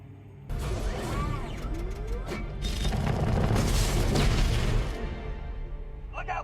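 Shuttle explosion in a science-fiction TV series: a sudden loud, sustained boom with crackling, metallic debris rumble lasting several seconds before it cuts off.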